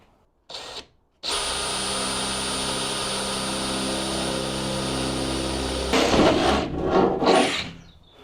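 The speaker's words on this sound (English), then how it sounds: "I'm going to stick a drill through there" A power drill whirs steadily for several seconds close by, then grinds and rattles as it bites through a wooden door in a camper van conversion before winding down.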